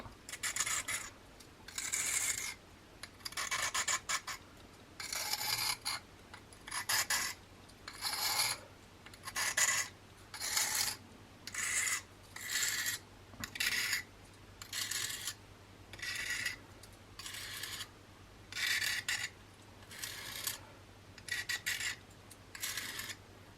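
A blunt penknife blade is slid back and forth over a sharpening stone, giving steady rhythmic rasping strokes, about twenty in a row, each a short gritty swish with brief gaps between.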